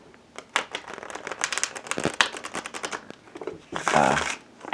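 Close, busy rustling and flapping of a tarot deck being shuffled, dense papery riffles with a louder crinkling flourish near the end.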